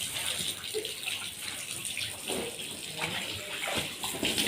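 Water from a motor pump gushes and splashes steadily into a homemade backyard pool, a continuous rushing wash with faint voices in the background.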